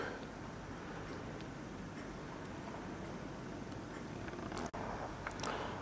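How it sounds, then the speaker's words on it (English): Old clock ticking inside the Palazzo dei Priori in Volterra, a steady faint tick-tock over a continuous room hum, with a brief dropout near the end. "Look at this lovely old clock."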